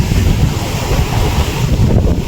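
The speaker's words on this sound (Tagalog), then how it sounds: "sobrang lakas po talaga ng alon" Heavy surf roars continuously, loud and close, with strong wind buffeting the microphone and no voices.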